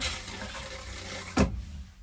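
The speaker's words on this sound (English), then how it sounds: "And that's how the toilet flushes, and it goes into the tank that's underneath the van." A new Dometic push-pedal toilet in a 1972 Dodge Balboa camper van flushes with a short, close burst of rushing water near the end, over a steady background hiss.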